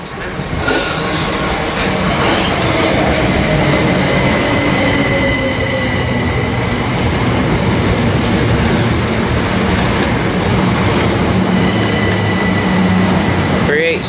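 A Class 387 electric train rumbles loudly and steadily close by as it arrives at Preston Park station, with wheels squealing and high tonal whines running throughout.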